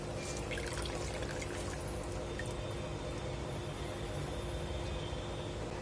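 Squeezed grated sweet potato drips and trickles water into a vessel, a steady close-up patter and dribble of liquid with no voices.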